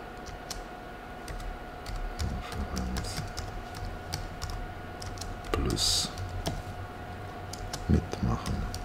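Rapid clicking keystrokes on a computer keyboard tap out in irregular bursts, close and crisp, with a faint steady hum and occasional soft thumps in the background.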